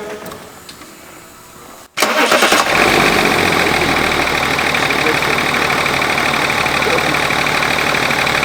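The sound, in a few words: BMW 7 Series E38 engine starting and idling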